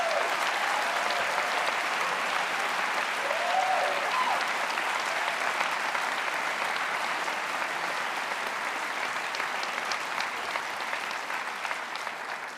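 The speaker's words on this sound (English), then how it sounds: "Please give them a round of applause." A graduation hall audience gives steady, even applause for Duke of Edinburgh Gold Award recipients at the ISZL 2024 ceremony. It is moderately loud and continues unbroken for over twelve seconds before gradually thinning.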